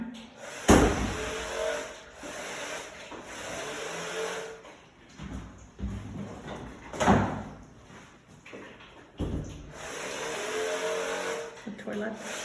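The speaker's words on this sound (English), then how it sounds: "you'll have to shut the door to get in behind" A washroom door is shut during cleaning, with several thuds and knocks spread through the clip and a sharp bang near the start, under and between a speaker's ongoing talk in a reverberant room.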